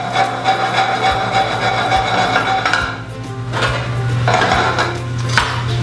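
Ingredients for a shrimp and tasso ham dish tossed in a pan on the stove, with metallic clanks and scraping knocks over a steady cooking hiss, close and fairly loud.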